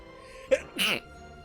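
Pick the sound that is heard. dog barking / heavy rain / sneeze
sneeze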